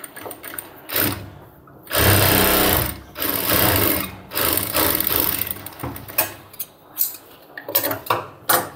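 A sewing machine stitches a cargo half-pant pocket in loud, close bursts of rapid whirring, stopping and starting several times, with short choppy runs toward the end.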